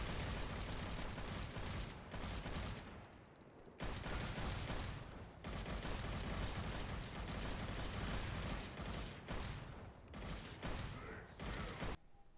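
Rapid-fire gunshots from Dante in the video game Devil May Cry 5, a dense, loud barrage of shots pounding almost continuously with a few brief gaps.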